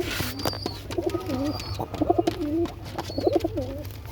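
Pigeons being paired coo close by in several rolling, repeated phrases, with a few faint higher calls from other birds in the background.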